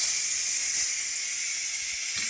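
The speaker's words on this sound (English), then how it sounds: "I am about to turn it off, and I'm going to release the pressure" An Instant Pot cooking ground beef and rice vents its pressure in a loud, continuous, close steam hiss that holds steady throughout without any break.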